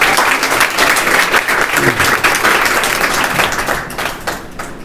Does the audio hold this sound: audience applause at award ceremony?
yes